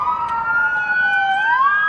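A police siren wails loudly and steadily nearby, its pitch gliding slowly and then sweeping upward, with no voices.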